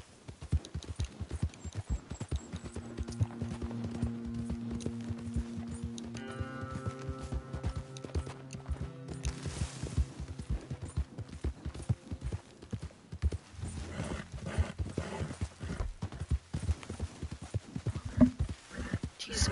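Steady galloping horse hoofbeats in Red Dead Redemption 2 pound on continuously for a long stretch, mixed with game music and ambient noise, fairly close and even in rhythm.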